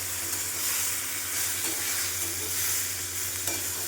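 Ground green chili paste mixed with turmeric and cumin powder is stirred into frying pumpkin and potato, giving a continuous close sizzle and crackle with light stirring scrapes and no talking.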